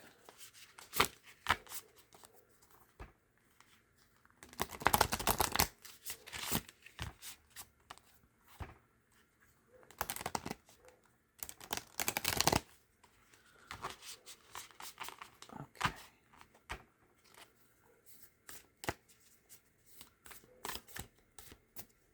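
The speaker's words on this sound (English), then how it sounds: "shuffle for your archetype card while I'm at it" A new tarot deck of unusual shape is shuffled by hand in several bursts, crisp riffling and slapping sounds separated by quieter pauses, close and clear with no talking.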